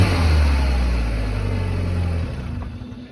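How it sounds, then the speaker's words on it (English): A manual-transmission car at a towing auction revs its engine, a loud, steady low rumble held for about two seconds before dropping back toward idle, with no talk over it. "You heard him rev it, goes forward and backwards."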